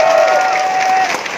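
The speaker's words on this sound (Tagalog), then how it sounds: "Palakpak naman ang mga payaman sa inyo." Brief burst of crowd applause at a business seminar, dense clapping with a sustained whistle or cheer riding over it, loud and close.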